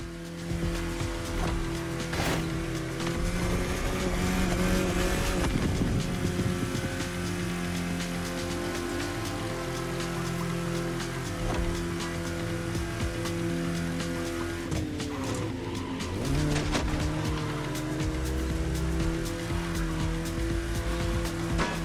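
A car cruises in the racing game The Crew Motorfest on a Hawaii scenic tour, a steady engine drone with shifting pitch and occasional tire squeals, loud and continuous under game music.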